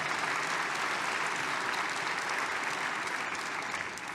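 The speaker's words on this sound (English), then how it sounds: "Give them a round of applause" Audience applause at a neurology academy plenary lecture, a dense, steady wash of many hands clapping that holds throughout and eases slightly at the end, with no speech.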